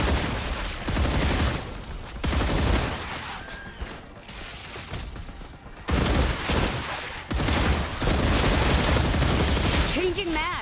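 Rapid gunfire from a Star Rupture video game weapon fills the clip in dense bursts with brief gaps, loud and continuous, mixed with game effects and a voice talking over it.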